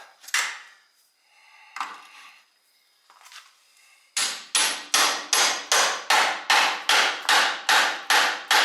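Hammer blows ring out during the front end teardown of a 1968 Pontiac GTO, a few scattered strikes at first, then a fast, loud, evenly spaced run of about ten metallic hits close by.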